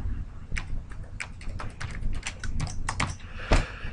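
Quick typing on a computer keyboard while a spreadsheet formula is written, with irregular clusters of sharp clicks and a heavier thump near the end, close and alone without speech.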